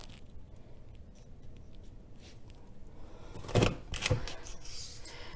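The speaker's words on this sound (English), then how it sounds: "So I'm gonna try to cut just one page here. So put it to the edge, push it in." A hole punch pressed through a single prayer journal page, giving two sharp crunching clicks about half a second apart after a quiet lead-in, close and fairly soft.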